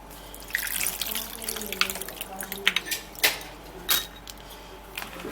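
Tap water runs steadily into a sink while food is rinsed under it, with small splashes, drips and clinks scattered throughout at moderate, close distance and no talking.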